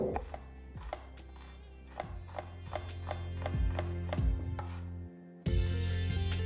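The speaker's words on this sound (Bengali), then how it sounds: "তাহলে দেখতেই পেলেন বিনসটা আমার এখানে কিন্তু কাটা হয়ে গেল" A knife chops green beans into small pieces on a board for vegetable soup, with a brisk run of sharp, close chops in a steady rhythm and a brief pause near the end.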